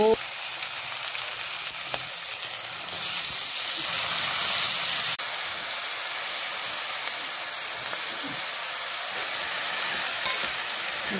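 Bhogi mixed vegetable dish is stirred and mixed in a hot pan, giving a steady bright sizzle and hiss with occasional scraping knocks.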